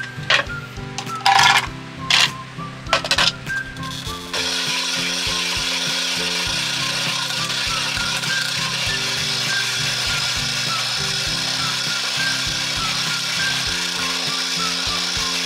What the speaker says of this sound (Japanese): このかき氷機思ったよりうるさかったから